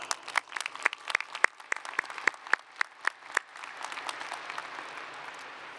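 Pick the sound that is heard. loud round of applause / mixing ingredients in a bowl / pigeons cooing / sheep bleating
loud round of applause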